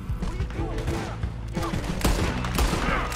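Gunfight in the video game Red Dead Redemption 2, a rapid barrage of overlapping gunshots and cracks, loud and continuous, with a voice talking over the shooting.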